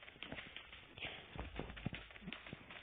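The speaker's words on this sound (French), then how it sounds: "Il y a des bruits de pas." Rapid, irregular footsteps in the battle royale game PUBG, a busy run of soft thuds and scuffs in close game audio, with no clear speech.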